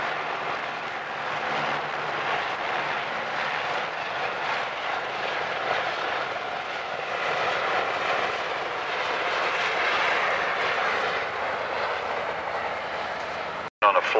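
A Huey helicopter flies at the Warbirds over Wanaka air show, its engine a continuous loud roar that holds steady and swells slightly before cutting off abruptly at the end.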